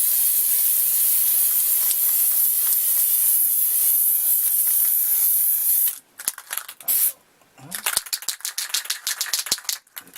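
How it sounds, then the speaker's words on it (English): An aerosol spray can hisses out paint in a long, steady, close-up burst lasting about six seconds, followed by short sputtering bursts and rattly spurts as the can runs low. "We're going to find out right now because I'm going to spray it anyway."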